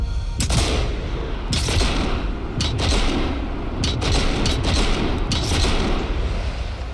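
Artillery shells fired in a video game land as heavy booms and blasts in repeated bursts against a dense, rumbling battle background, loud and close.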